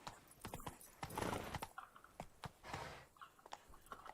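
Hooves of Roach, a horse in the video game The Witcher 3, clop in a quick, uneven trotting rhythm, with several distinct close hoof strikes and a brief rush of movement noise.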